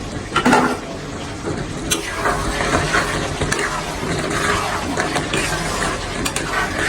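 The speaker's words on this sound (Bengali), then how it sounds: "এটাকে একটু নাড়া দিয়ে দিব এখন" Beef tripe (bot/bhuri) stirred in a cooking pot: loud, close metallic scraping and clattering of a spoon against the pot in irregular strokes, over a steady frying hiss.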